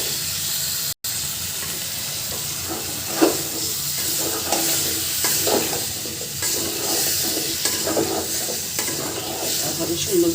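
Vegetable curry pieces stirred into a spice masala that has been fried until the oil separates, giving a continuous close sizzle broken by repeated spoon scrapes against the pan, with a brief dropout near the start.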